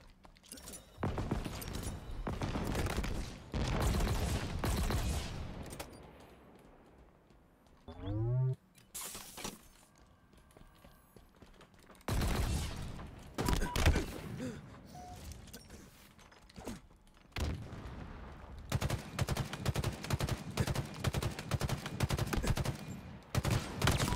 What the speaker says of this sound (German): Das ist sowieso eine schwere MG